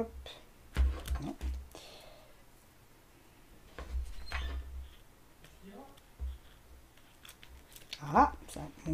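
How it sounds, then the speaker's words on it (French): A few sharp snips of small scissors cut through paper between pauses, with a person talking quietly in between. "on va recouper avec les petits ciseaux"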